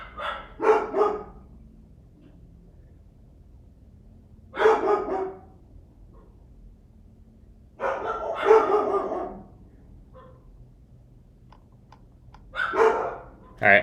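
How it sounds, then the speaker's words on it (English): Dogs bark in four short bursts of several yips each, spaced a few seconds apart, fairly close and loud over a quiet room. "Alright, I'm gonna go take care of these dogs."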